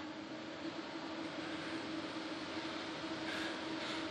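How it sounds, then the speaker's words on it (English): Fans of a water-cooled PC with MO-RA3 radiator and Noctua NF-A20 fans running flat out, a steady, loud whooshing roar with a faint constant hum, unchanging throughout. "So that's the fans on both the MOR03 and the Nexus Monster running flat out."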